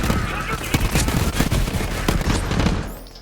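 Rapid video game gunfire mixed with grenade blasts, a loud, dense rattle of shots and thumps that thins out in the final moments.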